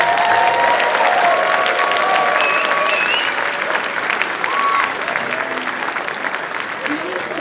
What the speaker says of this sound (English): How about we give them one more round of applause?